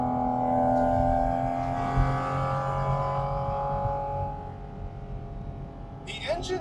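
A sports car's engine drones steadily with strong air intake noise, a sustained harmonic hum that eases slightly toward the end, with a brief higher burst near the close.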